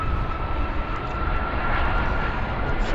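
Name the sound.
Airbus A330 wide-body airliner taking off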